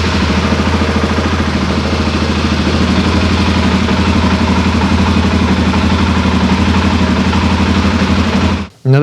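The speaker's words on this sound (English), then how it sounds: "And you start it up, your idle should be fine." A Polaris Wildcat UTV engine idles steadily and loudly up close after being started, a constant low throbbing rumble with light mechanical clatter that cuts off sharply near the end.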